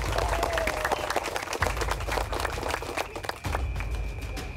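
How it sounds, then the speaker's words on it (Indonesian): A studio audience on a game show claps, many sharp individual hand claps forming lively, uneven applause that comes in two waves, with background music underneath and no talk. "Tepuk tangan."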